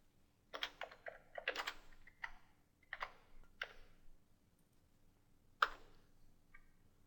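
Code being typed on a computer keyboard, quick clusters of crisp, close key clicks with short pauses between bursts and a single sharper tap near the end, quiet overall with no speech.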